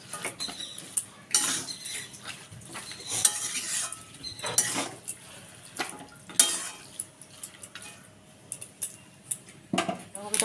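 Fish head and cauliflower curry stirred in a pan with a utensil: irregular scraping and clinking of metal against the pan, in scattered bursts with quiet gaps, close by, and a faint background hum.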